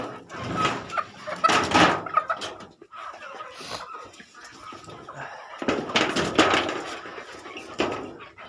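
Hens clucking in a small poultry farm enclosure, several birds calling in irregular bursts at close range, with louder clusters of calls near the start and end and quieter scratching activity between.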